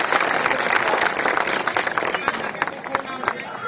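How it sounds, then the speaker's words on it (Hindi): An audience at a book launch event applauds loudly, dense clapping filling the room, tapering slightly into scattered claps with a murmur of voices. "जोरदार तालियां जो है उजमल निकम साहब के लिए बजनी चाहिए"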